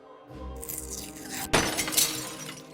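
A stained glass window shatters in the Deponia Doomsday video game, a loud crash of breaking glass with a sharp second burst midway and tinkling shards trailing off, with no talking.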